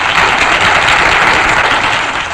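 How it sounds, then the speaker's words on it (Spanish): Broadband applause from a studio audience welcoming a radio announcer, loud and sustained throughout, with no voices over it. "pido el primer aplauso de bienvenida"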